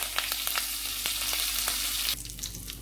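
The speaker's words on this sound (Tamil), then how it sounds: "கடையில் ஆயில் ஹீட் ஆயிடுச்சு. சோம்பு பட்டை இலை கிராம்பு அதெல்லாம் நான் சேர்க்க போகிறேன். இப்போ கருவேப்பிலை ஆட் பண்ணலாம்." Curry leaves, fennel, cinnamon, bay leaf and cloves fry in hot oil in a kadai for a parotta salna, giving a steady close sizzle with small pops and crackles, then a quieter simmer near the end.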